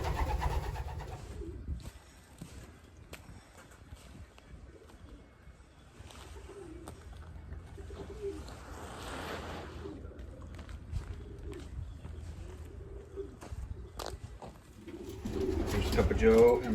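Racing pigeons coo softly in a nest box holding newly hatched young birds, low repeated coos near at hand, with a person speaking over them now and then.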